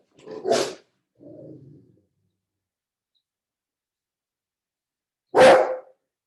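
A pet dog barks indoors in two bursts: a loud sharp bark, a softer follow-up a moment later, then silence and one more loud bark near the end, with no talking.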